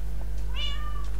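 A single short cat meow from the video game Minecraft, modded FTB, rises and falls over a steady low electrical hum.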